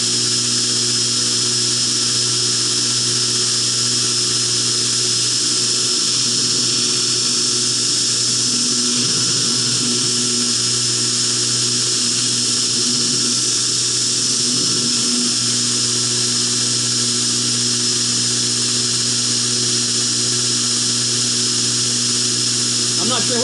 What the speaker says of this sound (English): Grinding nicely for being hardened. I think it might be a carbon steel of some kind.